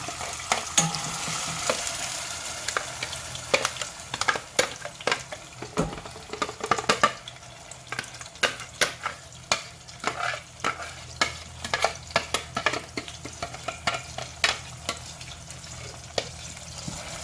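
Thai jungle curry paste, blended with water, frying in hot oil for a chicken curry with pickled bamboo shoots: a continuous sizzle broken by repeated stirring scrapes and utensil clacks against the pan, with no talking.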